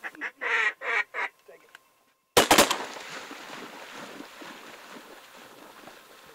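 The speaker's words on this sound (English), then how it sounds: "That was a big mallard right there" A few loud mallard calls sound about twelve yards away during a Sacramento Valley duck hunt, then a sharp burst of noise gives way to a steady wash of wind or water.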